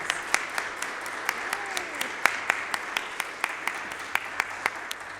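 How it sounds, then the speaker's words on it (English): Scattered, fairly sparse clapping from a concert audience follows an organ performance at a Halloween fundraising concert, rendered as distinct individual claps at a moderate distance in a large hall. "Let's have another round of applause."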